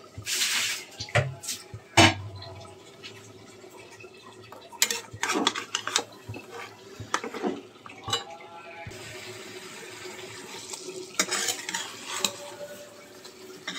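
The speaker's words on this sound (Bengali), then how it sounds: "এই আলু আর বেগুনটা ভালো করে কষায়ে সামান্য ঝোল দিব" Potatoes and eggplant stir-fried with spices in a pan for a rohu fish curry with lentil dumplings, with repeated scraping and stirring clatter of a utensil against the pan over a faint, steady sizzle.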